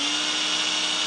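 A 12 V SDS drill runs slowly under a feathered variable trigger, giving a steady, whirring motor hum with a faint tonal whine, close and continuous with no pauses.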